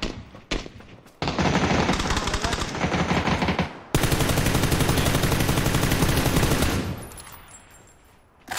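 Rapid automatic rifle fire in a ranked video game match, loud sustained bursts in two long runs separated by a brief pause, fading out at the end.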